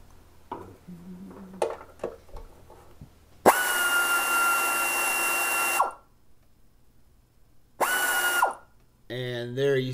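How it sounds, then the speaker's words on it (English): A power tool spins in two bursts, a long one then a shorter one, while removing a front transmission pan screw on a Nissan Frontier automatic transmission in a garage, with quiet handling noises before and a brief clatter after. "I'm ready to take out that front screw right now."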